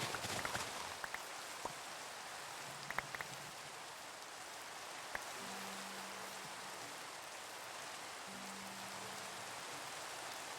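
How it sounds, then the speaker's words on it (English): Rain falls steadily in a modded Minecraft-style survival game, a soft, even hiss at low volume throughout, broken only by a few faint clicks and low tones. "Oh, it's raining."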